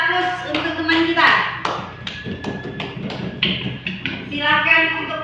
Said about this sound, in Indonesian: Udah, kasih aplaus untuk teman kita.